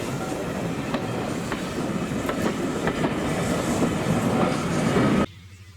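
Steam locomotive Earlstock Manor hauls its train into Crowcombe station on the West Somerset Railway, a close, loud continuous rumble with rhythmic wheel clicks over rail joints that cuts off abruptly near the end.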